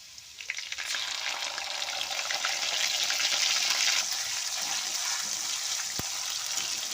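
Chopped garlic and ginger paste fry in hot oil for a restaurant-style palak paneer. The result is a loud, steady, hissing sizzle that runs throughout with only slight swells in intensity.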